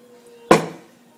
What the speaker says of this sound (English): We'll get our wok going, keep it as high up as it'll go.